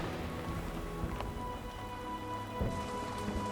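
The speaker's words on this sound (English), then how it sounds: "Heavy rain floods the plains in the dry season." Heavy rain falls steadily across the open Serengeti plains, a dense continuous hiss of drops at even loudness with a few faint low rumbles beneath, no voices present.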